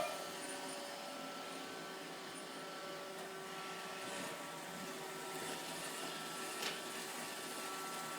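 A Roomba robot vacuum cleaner runs on carpet, a steady, fairly quiet motor whir and brushing hum that continues without pause, with no talking over it.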